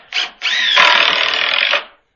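A power drill drives screws into wooden planks while building a vertical vegetable garden: a short whir, a brief pause, then a longer steady run that winds down, close and loud.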